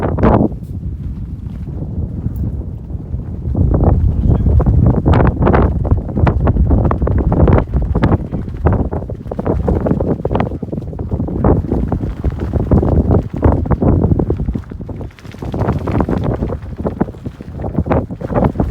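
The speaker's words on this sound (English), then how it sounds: "The wind is pretty steady." Steady, strong wind buffets the microphone on the open summit of Mount Moosilauke, a continuous low roaring rumble with gusty flutter throughout and no voice audible.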